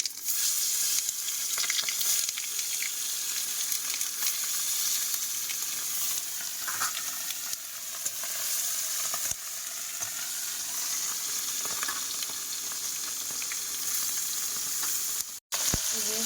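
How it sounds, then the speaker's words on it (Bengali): Fish fries in hot oil in a pan in a village kitchen, a dense continuous sizzle and crackle held steady throughout, with occasional faint clinks and a brief dropout near the end; no one speaks. "এদিকে মাছ ভাজা হচ্ছে"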